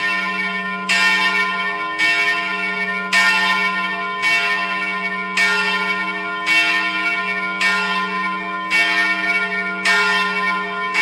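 Church bells ring in a steady repeating pattern, each strike ringing out over a constant low hum, loud and without voices.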